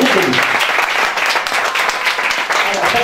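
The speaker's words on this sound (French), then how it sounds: "Je vous demande de faire un tonnerre d'applaudissements, s'il vous plaît, pour Sandrine Bégou" An audience at a Miss Prestige Nouvelle-Aquitaine pageant applauds Sandrine Bégou with steady, dense clapping that holds at full volume for the whole few seconds.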